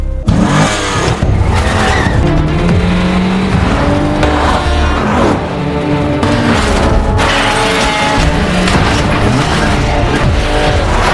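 Loud, dense car chase from a gangster revenge film, with engines roaring and tires skidding and squealing continuously, plus impacts as one car rams another, layered under dramatic music throughout.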